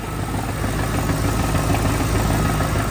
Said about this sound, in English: if you listen closely, you might be able to hear that little knocking noise. Well, that's not the engine